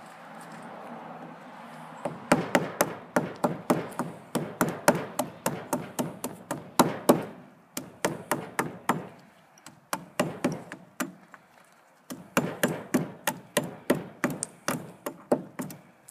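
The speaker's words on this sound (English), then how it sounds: "Husking white walnuts or butternuts with a hammer." A hammer strikes white walnut or butternut husks in quick bursts of sharp knocks, several runs of rapid close blows separated by short pauses.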